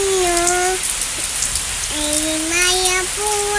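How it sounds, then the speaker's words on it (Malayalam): Rain falls steadily as a constant broadband hiss throughout, while a voice sings drawn-out notes over it. "മഴ മഴ"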